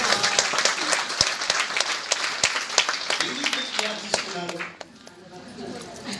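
Audience clapping during a motivational speech: a steady round of many hands with sharp individual claps, fading out near the end as room noise and a voice remain.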